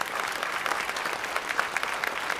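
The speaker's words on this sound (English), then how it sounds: "I know that we got a chance to give them a round of applause, but I want to do that again." Steady applause from a Baptist church congregation for its pastor search team, a full and even patter of many hands at a moderate level, continuous throughout with no speech over it.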